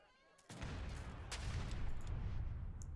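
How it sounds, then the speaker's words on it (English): Heavy cannons fire in an Age of Empires II battle, a sudden dense burst of booming shots that keeps rolling as continuous loud battle noise after a quiet opening moment. "As the heavy cannons come in here."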